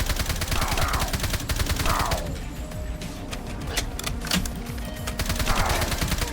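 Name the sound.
gunfire from guns in the video game Minecraft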